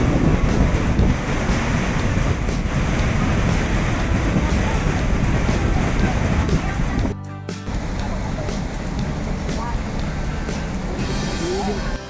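Athirapally waterfall in Kerala rushes with a broad, continuous roar of falling water, loud and steady with wind buffeting the microphone and a brief dropout midway; no clear talk over it.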